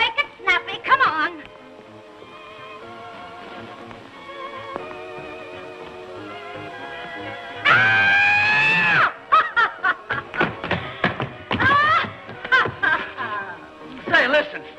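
A person screams in a 1931 Laurel & Hardy comedy film, one loud sustained shriek after scattered chatter and snickering, followed by more talk and laughter on an old, thin-sounding soundtrack.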